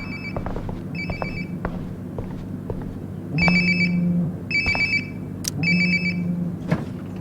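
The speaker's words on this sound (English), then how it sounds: "Sounds like my phone is definitely nearby." A phone rings in repeated electronic bursts in the video game Life is Strange: Before the Storm, close and clear, with faint rustling and a low hum in between.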